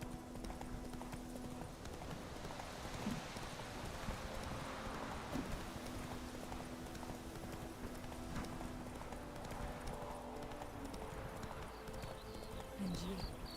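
Roach, a horse in The Witcher 3, clip-clops in a steady walking rhythm of hoofbeats over a background of wind and rustling. Voices speak at points over the hooves.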